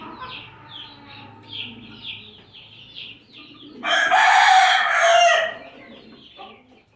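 Chickens cluck in soft repeated bursts nearby, then a loud rooster crows partway through before the clucking resumes.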